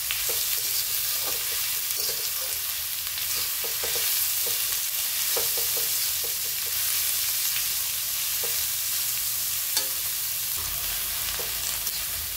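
Chopped onions with a half spoon of salt sizzle steadily in a hot pan, with repeated scraping and stirring clicks of a spoon throughout, close and fairly loud with no talking.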